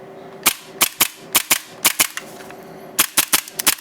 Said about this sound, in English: Let's see how many shots we can get out of this.